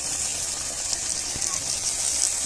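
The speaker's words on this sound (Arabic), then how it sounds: "هاي بدينا نقلي يا جماعة" Falafel patties fry in hot oil in a pan over a wood fire, a steady bright hiss and sizzle running throughout at moderate level, with a faint thump in the middle.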